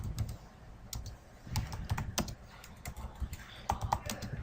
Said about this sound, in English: I'm just typing a dummy link.